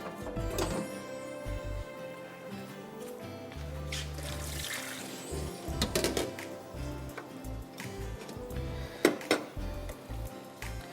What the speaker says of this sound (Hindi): पानी में इसका निकाल दूं बैंगन का।